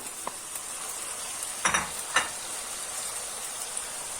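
Peppers, garlic and tomatoes fry in a pan for İmam Bayıldı, giving a steady faint sizzle with a few brief louder crackles and stirring clatters partway through.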